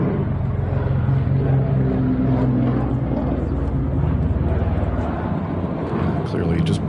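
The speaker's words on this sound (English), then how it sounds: "So, sounds like both engines are running." A twin-engine airliner's engines drone steadily and loudly during a steep, flat-attitude descent, a constant roar with faint tonal whine, while voices talk over it.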